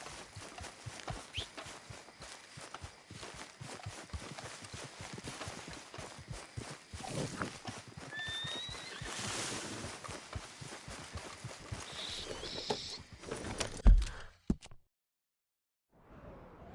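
A horse gallops with steady rapid hoofbeats in Red Dead Redemption 2, moderately faint under game ambience, before the sound cuts off abruptly near the end.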